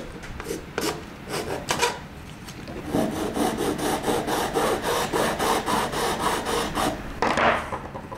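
Hand file rasping across the freshly cut edges of a duckbill magazine lug, a close, steady series of scraping back-and-forth strokes, sparse at first and then continuous and rhythmic.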